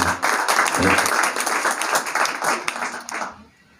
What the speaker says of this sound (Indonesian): Aplaus buat teman-teman panitia dan seluruh kawan-kawan.